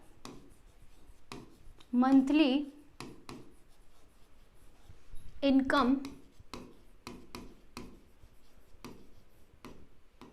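A teacher's pen or marker writes on a board during a class 9 algebra lesson, with sharp taps and short scratching strokes spread through the clip. Someone speaks in two brief bursts between them.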